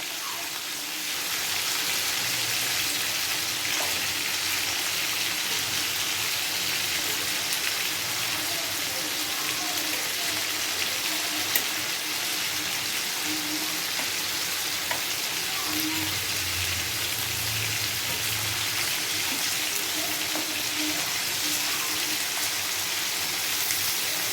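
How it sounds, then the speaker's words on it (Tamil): Chicken pieces fry in a pan of hot oil, a loud, dense, continuous sizzle lasting throughout with faint crackles and occasional stirring scrapes. "இப்போ சிக்கனும் பாருங்கள் வெந்துக்கிட்டு இருக்குது"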